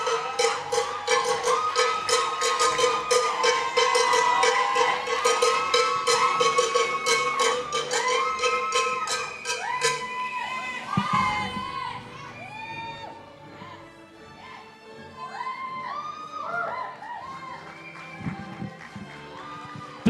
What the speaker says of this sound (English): Let's applaud and recognize Joseph Gonzalez Felix.